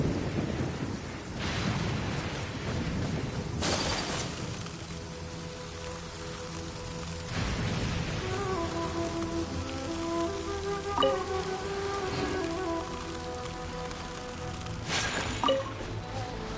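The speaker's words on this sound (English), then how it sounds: "Let us find shelter from the rain." Rain in the video game Genshin Impact, a steady dense patter with rumbles of thunder, a few sharp cracks and soft game tones layered over the downpour, no speech.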